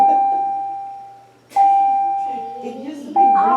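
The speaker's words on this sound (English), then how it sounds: "That's a long bell. think. It just keeps going." A long, steady school bell tone rings in a classroom, sustained for several seconds and restarting twice, while people talk over it.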